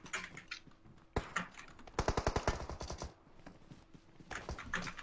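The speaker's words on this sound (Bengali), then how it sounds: "আমি একটা ফায়ার আওয়াজ পাইছিলাম" Gunfire in the PUBG video game, quiet rapid automatic bursts of shots followed by scattered single cracks.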